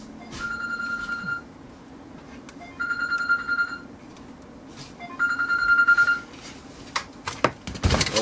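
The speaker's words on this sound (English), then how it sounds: "my phone's ringing straight away." A phone rings in repeated bursts of bright electronic tones, three clear rings spaced a couple of seconds apart, fairly close, with clicks and handling noise around them.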